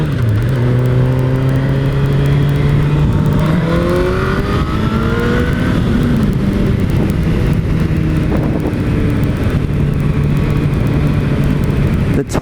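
A 2006 Suzuki GSX-R 1000 K6 sport bike accelerating hard, the engine note climbing in repeated rising pulls through the gears, loud and close with constant wind rush throughout.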